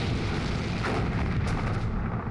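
Dense, continuous roar of heavy gunfire and booming blasts, loud and sustained, like a distant naval artillery barrage: warships Bismarck and heavy cruiser Prinz Eugen exchanging fire with HMS Hood and Prince of Wales.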